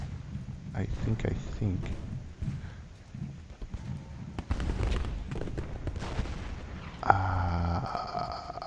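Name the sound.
gunfire in the video game Ultimate General Gettysburg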